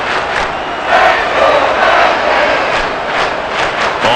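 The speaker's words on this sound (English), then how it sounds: "How about some applause for the defense there?" Stadium crowd applause and cheering from a Madden NFL 23 American football game between the Green Bay Packers and Minnesota Vikings, a steady loud roar with swelling peaks throughout.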